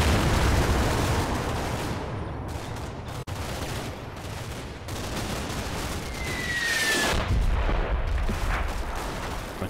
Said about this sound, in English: Artillery falling